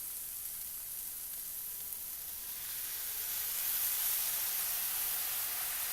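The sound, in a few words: water and seasoning mix sizzling in a pan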